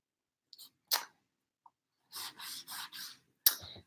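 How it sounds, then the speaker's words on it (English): A cloth rubs a sticky Chalk Couture transfer clean in a few short, dry wiping strokes, close and quiet, with brief pauses and a small tap near the end, no voices. "And now I'm just going to wipe it."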